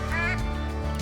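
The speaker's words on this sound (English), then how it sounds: "This is the Beacon Deluxe duck collar." A Beacon Deluxe duck call in the hunting game Call of the Wild sounds a dense, continuous run of nasal quacking calls over a steady low hum of game ambience.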